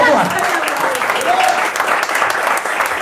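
A church congregation cheers and applauds for God in a sustained, dense wave of clapping and shouting, loud and continuous, with voices mixed in throughout.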